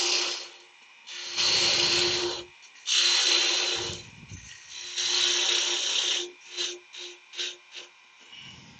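A lathe cuts out the centre of a small laburnum hardwood bowl in several sustained scraping passes, then a run of short choppy cuts, close and steady with no talking.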